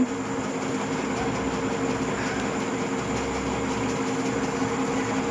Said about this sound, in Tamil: மோட்ரு இப்போ ஃபுல் ஸ்பீடில் சுற்றிட்டுருக்கு